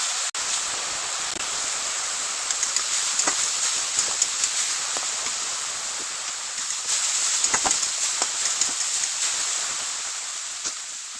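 Spice paste frying in a pan on a kitchen stove for a puffed rice curry, a little water added, giving a steady close hiss and sizzle with occasional small pops and clicks, no talking.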